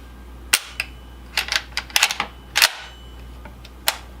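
Several sharp metallic clicks from an IWI Galil rifle fitted with an ALG Defense trigger as the hammer drops during a function test, scattered singly and in quick clusters, close and crisp with no talking.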